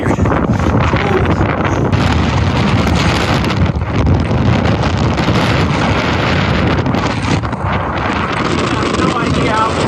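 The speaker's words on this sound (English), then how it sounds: "No idea how cold and windy it is up here." Strong, cold mountain wind roars and buffets the microphone nonstop, a loud, rough, steady blast with no let-up.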